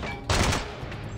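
Gunfire in the James Bond 007: Blood Stone video game, one loud dense burst of shots lasting about a quarter second amid a steady game soundscape, with quieter noise trailing after.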